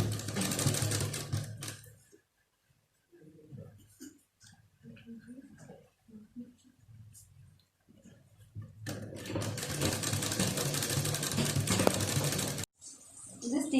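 A sewing machine stitches a frock in two fast, steady whirring runs, one at the start and a longer one later, with a quiet gap of handling sounds between them.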